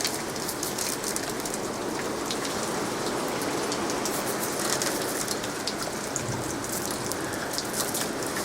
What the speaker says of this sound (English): That is pure hail.